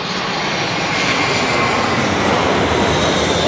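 A landing aircraft's engines roar loudly and close, a broad continuous rushing drone that holds steady and swells slightly as it passes.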